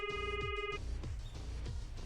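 Telephone ringing during a call in a video game: a bright electronic ring tone sounds for a moment, followed by a steady series of soft repeated pulses.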